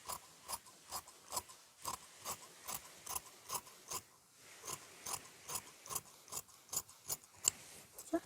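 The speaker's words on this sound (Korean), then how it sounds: "여기는 이렇게 접어서 두 장 한꺼번에 붙여서 자르고" Scissors cut through folded hanbok skirt fabric, two layers at once, in a steady series of about twenty crisp snips, close and fairly quiet, with a brief pause midway.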